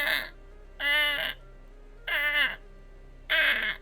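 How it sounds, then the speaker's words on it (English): A raven croaks loudly above a roof, three harsh drawn-out calls spaced about a second apart, each ringing with a faint echo in an otherwise quiet space. "from like a crow above the roof, just echoing down into the room"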